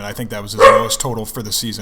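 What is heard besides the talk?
dog barking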